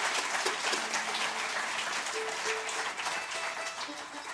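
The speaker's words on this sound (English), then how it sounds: "How about a big round of applause for the whole crew?" Audience applause for the crew at a live bluegrass radio show, a dense steady wash of clapping throughout with no voices on top.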